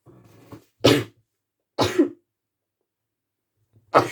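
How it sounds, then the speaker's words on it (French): Three sharp, explosive bursts of breath spaced apart, like sneezes or coughs, with a soft murmur of voice at the start. "je suis désolée, je vais éternuer."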